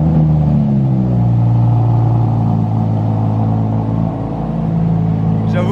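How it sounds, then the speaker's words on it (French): A V10 supercar belonging to a tennis player is started and revved close by, a loud deep rumble that swells and drops in pitch as the revs rise and settle, with people talking over it. "Vas-y, démarre là, comme ça je prends le bruit au démarrage"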